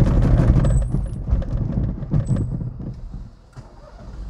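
A car engine labors in a high gear at about 15 mph, rumbling and shuddering roughly before the sound sags and dies away as it stalls.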